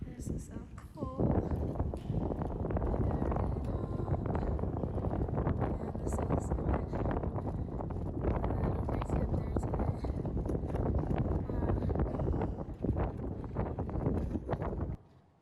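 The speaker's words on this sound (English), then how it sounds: "You can hear it's pretty windy." Strong, steady wind buffets the microphone at the South Col high camp on the mountain, 26,000 feet up in the death zone, a dense roar that runs unbroken for the whole stretch while a hoarse voice talks over it.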